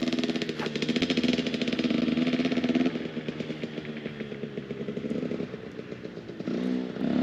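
Dirt bike engine revving and buzzing steadily on a farm, a loud continuous two-stroke-style drone with rough, rattling texture and slight pitch wavers throughout.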